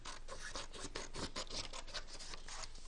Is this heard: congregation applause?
no